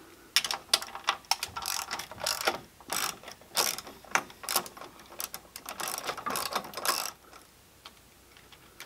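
Socket wrench ratcheting out the screws on a pinball playfield: rapid bursts of sharp mechanical clicks in uneven runs, close and loud, with no talking.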